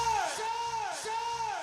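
A sampled human scream processed into a riser effect, sounding as two swooping, pitch-bending wails in quick succession, with no talking over them.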